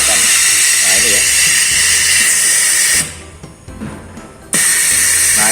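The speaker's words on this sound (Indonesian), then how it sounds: "Jadi ketika ada bunyi untuk vakumnya dia sedot." Loud steady hissing rush of vacuum suction on a 4060 flatbed screen printing machine, cutting off abruptly for a moment before resuming, with a voice talking beneath it.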